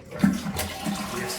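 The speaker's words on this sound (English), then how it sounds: "Toilet, does it flush?" Hotel room toilet flushing in a Premier Inn near Heathrow, a steady rushing swirl of water close by that runs on throughout, with a faint voice briefly audible.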